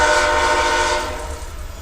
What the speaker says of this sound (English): sorry about the really loud train